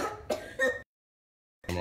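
A few short, raspy coughs or throat-clearing sounds close by, separated by a moment of silence.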